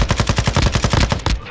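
Rapid automatic gunfire in Call of Duty: Modern Warfare II, a steady burst of about a dozen evenly spaced shots, loud and close, with no talking.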